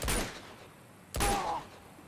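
Two sharp gunshots about a second apart from the video game Uncharted, set in Borneo, each a loud crack that trails off quickly.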